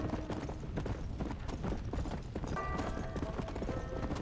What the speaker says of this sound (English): I wonder if this horse will buck you off if you ride it too hard.